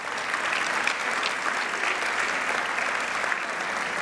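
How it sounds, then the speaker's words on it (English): A large crowd gives a sustained, loud round of applause at a charity giving event, the dense clapping holding steady throughout without any talk. "let's give Margaret one more big round of applause"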